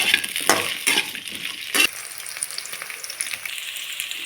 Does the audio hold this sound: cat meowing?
no